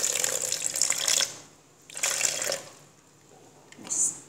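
Cold water pours into a blender for black plum juice in three short bursts, a close splashing gush with quiet gaps between.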